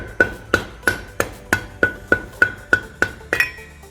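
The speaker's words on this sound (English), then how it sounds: "get a soft hammer or mallet and knock it out" Soft mallet knocking a seal holder out of the bell housing on a FIAT 124 Spider gearbox during input shaft seal replacement: eleven sharp, evenly spaced knocks, close and clear, with no talking.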